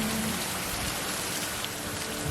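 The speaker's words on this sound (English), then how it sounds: "the rain was kicking up even more" Heavy rain falls hard and continuously, a loud, dense wash of hissing noise with no gaps and no voices.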